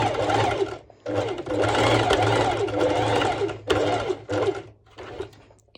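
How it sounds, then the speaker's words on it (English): A home sewing machine runs a straight stitch through fabric for a crop top, in loud, steady whirring bursts broken by brief pauses, close up with no talking. "So now I'm actually doing this straight stitch over here."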